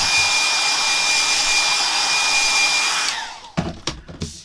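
A hair dryer blows steadily at close range over a loose watercolour cartoon painting, a loud whooshing whine with a steady tone that winds down after about three seconds, leaving a few handling knocks and rustles.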